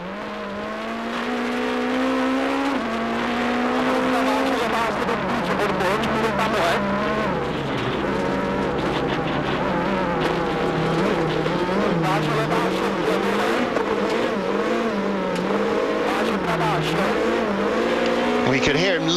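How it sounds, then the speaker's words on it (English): Rally car on icy Monte Carlo Rally 2009 special stage, engine revving hard and changing pitch through gears, with tyre scrabble and wheels locking on ice as studded tyres scratch for grip, close and continuous under a commentator's voice. "We could hear him locking up there on the ice, the wheels grabbing and the studs scratching for grip."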